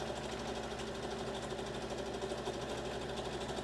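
A sewing machine runs steadily through the side seam of a kimono wrap dress, a close, continuous mechanical whir with rapid needle ticking from start to finish and no pause.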